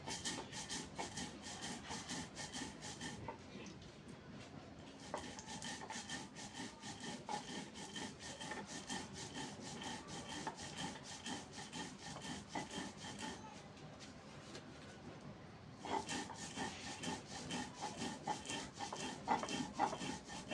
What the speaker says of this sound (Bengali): আগে জিরাটা আর সরিষাটা বেটে নেব।